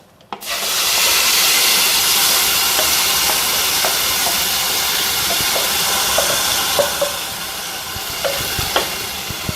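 A loud, steady sizzle of paste hitting hot oil, broad hissing frying noise close up, with faint scattered pops and no voices.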